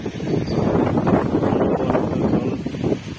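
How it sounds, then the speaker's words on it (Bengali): Gusty wind in open, flooded fields near the end of Cyclone Remal with light drizzle, a steady loud rumbling buffet close to the microphone, rising and falling slightly with no talk. "এখন হালকা ঝিরঝিরি বৃষ্টি এবং ঝোড়ো হাওয়া চলছে"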